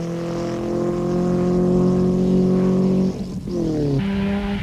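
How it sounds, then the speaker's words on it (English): Sasol Toyota Hilux desert race truck roaring past at a 1991 off-road race, a loud sustained engine note that dips and shifts pitch abruptly partway through as it passes or changes gear. "With their buckies sounding as good as new and still leading Class 5 and lying 5th overall were Alfred van Vuren"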